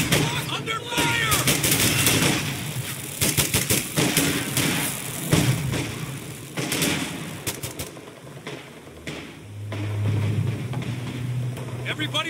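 Gunfire and artillery in the World War II strategy game Company of Heroes 2, Ardennes Assault campaign: dense, loud battle noise with repeated sharp shot bursts and heavy booming impacts over a continuous rumbling background.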